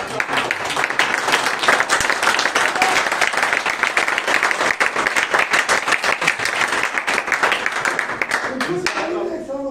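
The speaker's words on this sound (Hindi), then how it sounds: "1 साल हो गया ऐसी तालियां सुने हुए, तो बार बार सुनने का मन करता है।" Applause from a theatre festival audience after a Charulata play performance, sustained loud clapping from a full hall for nearly ten seconds, fading out as a voice begins at the end.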